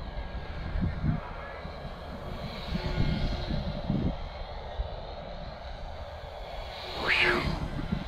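A Defiant Renegade model airplane motor powers up in flight, a steady buzzing drone that rises in pitch, with a sharp surge near the end, heard from a distance under wind noise and a speaking voice.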